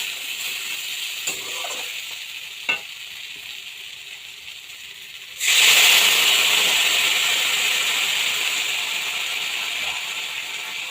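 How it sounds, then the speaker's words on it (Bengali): Water poured into a pan of dried fish curry: a quiet simmer with a couple of small clicks, then a sudden loud, bright hiss and sizzle that holds steady and slowly eases. "এবার আমি অল্পটুকু জল দিয়ে দেবো"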